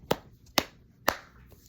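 A person claps their hands three times, evenly spaced about half a second apart, each clap sharp and fairly close but quiet, with no talking.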